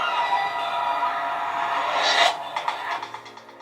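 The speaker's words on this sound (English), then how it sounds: "don't let this annoying startup sound fool you" Startup chime of an Acer Predator Helios 300 gaming laptop with an RTX 2060, a bright electronic swell that rises to a sharp peak and then decays through a few fading echoing pulses.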